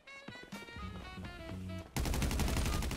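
Gunfire in a Grand Theft Auto Online deathmatch, with rapid shots layered over game music, then a loud, dense burst of continuous automatic fire in the final second.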